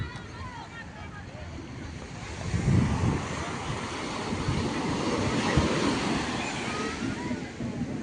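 Surf breaking at Chowpatty beach in Mumbai, a steady wash of waves with wind rushing over the microphone, swelling louder at moments and carrying on throughout without clear speech.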